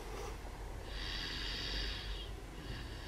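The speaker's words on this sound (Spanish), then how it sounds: "Está hasta roncando, ¿sí lo oyen?" A sleeping young child snores softly while being carried in for a haircut, a quiet steady breathy snore with faint snorting, heard close and alone against a low background hum.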